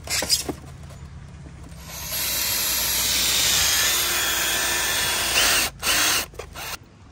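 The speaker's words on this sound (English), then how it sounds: "there's a bit of a trick to cut this because it's so thick and we didn't have the best Stanley knife" A Stanley knife cutting through very thick material while fitting Rock Tamers to a BT-50, heard as sustained close rasping and rubbing strokes broken by short pauses.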